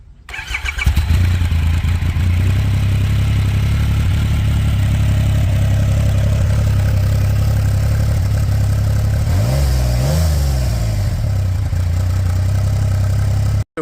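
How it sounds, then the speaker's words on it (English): A 2023 Triumph Rocket 3 GT motorcycle with its large three-cylinder engine cranks and fires, then settles into a steady low idle with one brief blip of revs, loud and close. "Here, let me start it up for you."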